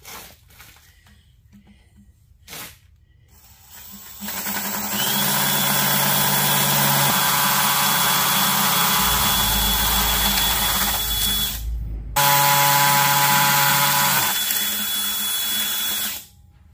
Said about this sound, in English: I'm going to run a masonry bit through that. Let's see, jackhammer.